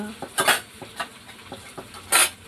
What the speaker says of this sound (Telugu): బెండకాయలు అండి అవి కాస్త అటు ఇటు తిప్పుకున్నాము